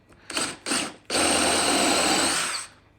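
A DeWalt DCD701 brushless 12V cordless drill whirs in two short bursts, then runs steadily for about a second and a half while biting into material, loud and close.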